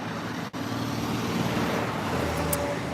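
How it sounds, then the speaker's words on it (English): Steady, loud roadway traffic rolls along Massachusetts Avenue in Washington D.C., a continuous wash of passing cars and engines with one brief dip early on and no voices. "man the traffic"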